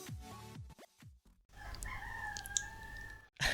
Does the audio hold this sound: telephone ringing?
no